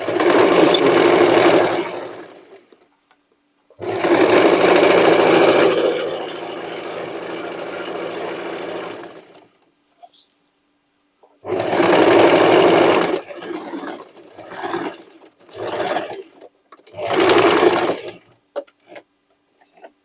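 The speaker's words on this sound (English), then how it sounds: "Only a zigzag stitching." A sewing machine runs zigzag stitches on a dress made from sweatshirt and denim scraps, close and loud, in several bursts of a few seconds with silent pauses, then shorter quick runs near the end.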